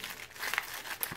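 A small AliExpress parcel being cut open: quiet plastic crinkling and crackling with a couple of sharp little crunches from the packaging, close and faint, with no talk.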